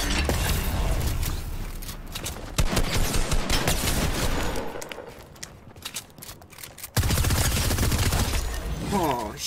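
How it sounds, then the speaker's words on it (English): Gunfire in the Fortnite battle royale video game, with dense bursts of rapid shots and clattering mechanical game sounds running loud and continuous throughout, separated by brief lulls. "gunshots, gunshots, gunshots."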